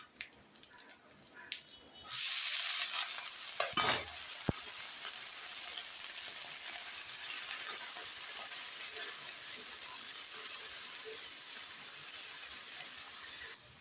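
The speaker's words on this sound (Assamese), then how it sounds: "এনেকৈ আলুখিনি অলপ ভাজা কৰি ল'ম।" Potatoes frying in a pan for a cabbage dish, a loud steady sizzle that bursts in after a quiet start and then holds evenly, with a brief stirring scrape.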